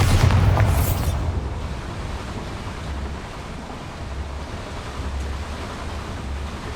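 Bombarda explosion spell going off in Hogwarts Legacy: a sharp blast at the start with a hissing burst, then a long rumbling, rushing tail that settles into a steady roar.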